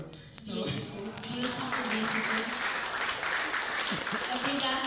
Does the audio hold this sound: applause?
yes